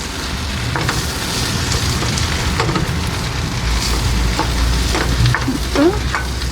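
A spoon scrapes and stirs boiled potato masala filling for dosa in a pan over a low flame, with soft steady sizzling and a few intermittent scraping clicks, close up and without talk.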